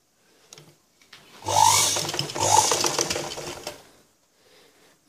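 A sewing machine runs in two bursts, stitching the folded lower edge of a cross-cut blouse, with mechanical whirring and clicks close by and no talk.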